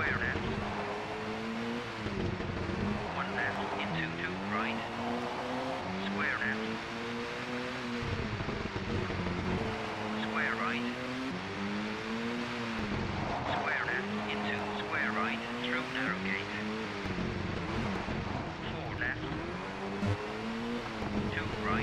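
A rally car engine in the video game Colin McRae Rally, New Zealand stage, drones and shifts pitch continuously, revving up and dropping repeatedly with gear changes, loud and close throughout, with wind noise underneath.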